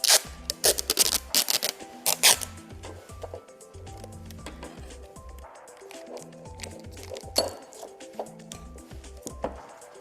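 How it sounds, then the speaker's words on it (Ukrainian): A glass Petri dish is handled and adhesive tape is stuck onto it, giving close, sharp crackles, clicks and rustling taps in irregular bursts. The sounds are loudest at the start and lighter later. "візьму нашу чашку Петрі, але з цієї сторони, з верхньої, я її заклею скотчем"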